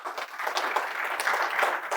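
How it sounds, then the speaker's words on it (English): Audience applause after a call to honor people at a business talk about running on EOS, a steady, dense wash of clapping that fills the short stretch without voices. "Give them a round of applause"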